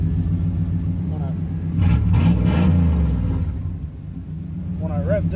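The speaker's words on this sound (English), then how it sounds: "when I rev this, you can really hear it." Engine of a 2006 Toyota Tundra fitted with a new exhaust, a low steady rumble that swells as it is revved in the middle, then settles, with a person talking over it.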